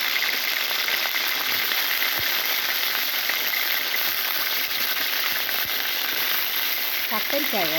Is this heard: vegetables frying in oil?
yes